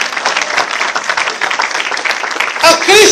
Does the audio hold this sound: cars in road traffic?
no